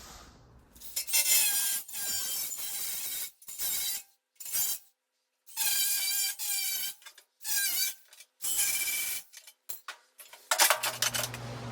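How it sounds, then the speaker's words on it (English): Cutting and rasping into the inner fender of a 1937 Chevy Master Deluxe rat rod, several bursts of harsh grinding each lasting a second or two, separated by short silences, loud and close with no talking. "I'm gonna trim the inside of that fender to see if we can get it to fit"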